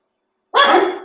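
A dog gives one loud, close, sharp bark after a moment of silence, its sound trailing off briefly.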